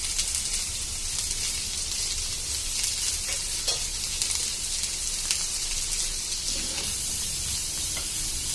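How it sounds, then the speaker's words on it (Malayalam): Two medium onions frying in hot oil with fennel and cumin seeds, a steady sizzle broken by scraping stirs of a spoon against the pan. "നമുക്കതിലേക്ക് ഒരു 2 മീഡിയം സൈസ് സബോള ഇട്ട്"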